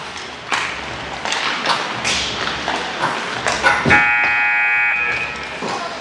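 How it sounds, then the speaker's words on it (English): A loud electronic buzzer blares for about a second over a noisy hockey arena, with scattered thuds and knocks before and after. "Buzzer just got buzzed a little early"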